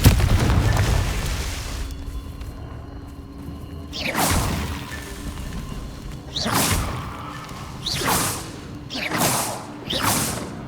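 Confringo fire spell blasts in Hogwarts Legacy, a series of sharp whooshing bursts and booms repeating about every two seconds over a low rumbling game ambience, with no talk.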